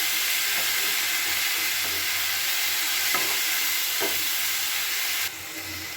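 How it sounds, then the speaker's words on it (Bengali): Khesari (grass pea) greens are fried in a pan with onion, garlic, salt and turmeric, giving a steady close sizzle broken by a few scraping stirs before the hiss drops slightly near the end. No one speaks. "এবার খুব ভালো করে এটাকে পেঁয়াজ রসুনের সঙ্গে মিশিয়ে নিতে হবে।"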